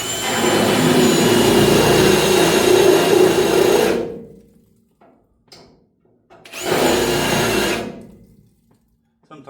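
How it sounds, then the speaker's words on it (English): A drill bores out spot welds on the cowl of an HQ GTS coupe, running in two loud, close, sustained whining bursts of about four seconds and two seconds, with a brief quiet gap between them. "so I'll drill them out."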